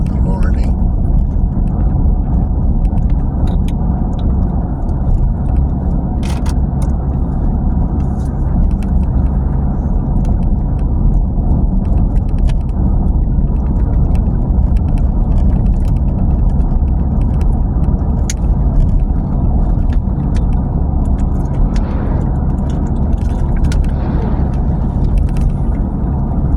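A gravel delivery truck's engine rumbles steadily and loudly near a driveway early in the morning, a continuous heavy motor drone with no pauses.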